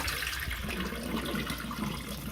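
Water gushing and draining steadily as boiled spinach is tipped into a strainer, a continuous close splashing rush with no talk.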